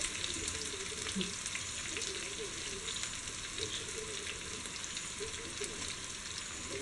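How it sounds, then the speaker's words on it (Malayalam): Onions sauté in a pan for Kerala-style chicken curry, a continuous soft hiss and crackle with faint stirring scrapes, steady and fairly quiet throughout without speech. "സവാള നന്നായിട്ടൊന്ന് വഴറ്റിയെടുക്കണം."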